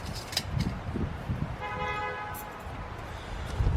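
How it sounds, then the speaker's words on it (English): A car horn honks nearby outdoors beside a campfire pit: one sustained, clear toot of under a second mid-clip over steady open-air background noise. "Why are people honking?"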